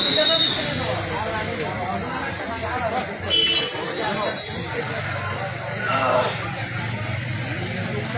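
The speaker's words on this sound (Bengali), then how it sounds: "এই তো ট্রেন চলে আসছে, বাতি দেখে ফেলছি আমরা" A train approaching a station at Boro Horon Bazar in Brahmanbaria, a distant rumble and hiss with faint high squeals that swell midway, while people talk nearby.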